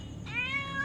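A stray neighbourhood cat lets out a single short, clear meow, close and fairly loud, with no voices over it.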